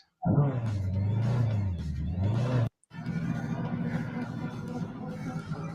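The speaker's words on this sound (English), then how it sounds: "Just put a motorbike engine into the car." A car fitted with a motorbike engine revs loudly and close by in a deep, rising and falling roar, cuts out briefly, then settles into a steady rumbling run.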